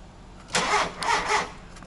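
A 1.4 litre 16-valve car engine cold-starts nearby: a brief cranking catch, then two loud surges of revving settling toward idle, with no talk over it.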